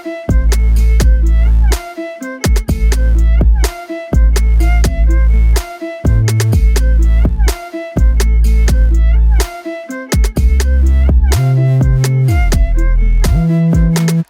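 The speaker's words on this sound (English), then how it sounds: "one of my favorite bass synths has been Monarch" Monarch bass synth playing a loud, deep looping pattern of punchy repeated notes with short gaps between phrases and a few higher pitched slides, steady and alone throughout.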